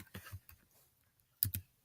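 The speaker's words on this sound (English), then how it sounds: "let's just say I just wanted to type something like" Typing on a computer keyboard: a few soft, scattered key clicks near the start, then a short quick burst of louder taps near the end, close and alone with no talking.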